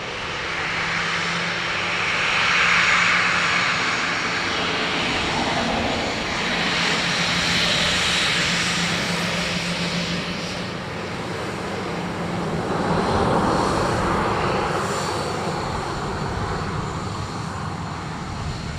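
A Ryanair jet landing at Dublin Airport, a loud continuous engine roar with broadband rush that swells and eases in slow waves throughout, with no voices.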